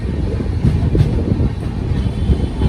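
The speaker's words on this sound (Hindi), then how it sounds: "चूरू जंक्शन पर अराइविंग होती हुई, अराइविंग करते हुए Barmer superfast express 1 number platform पर।" The Barmer Superfast Express pulls into platform 1 at Churu Junction as a steady, loud low rumble with some wind buffeting, continuous and without talking.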